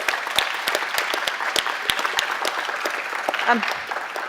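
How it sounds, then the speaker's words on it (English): An audience claps for a speaker at an International Women's Day event, a steady patter of many hands at moderate loudness with individual sharp claps standing out, and a voice briefly heard near the end. "Can we give Joyce a great clap?"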